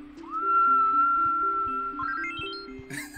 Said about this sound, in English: I can never get any sleep with that dang whistling out there in the distance